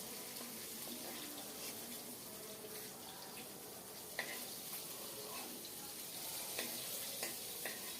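Hilsa fish head frying in oil in a home kitchen pan, a steady soft sizzle with faint crackles and occasional clinks throughout, moderately quiet and without talking.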